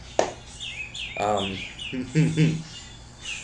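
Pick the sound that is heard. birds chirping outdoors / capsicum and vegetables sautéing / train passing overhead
birds chirping outdoors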